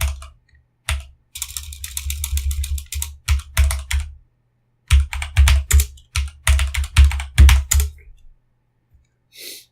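Bursts of rapid, close typing on a computer keyboard as a password is entered, with short pauses between runs of keystrokes and a few isolated taps near the end.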